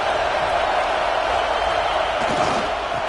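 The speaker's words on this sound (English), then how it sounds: "Big 3rd down as the crowd gets behind this defense." A football stadium crowd roars loudly and continuously during a college game between Louisville and Florida State, a dense, sustained wall of cheering and noise with no break.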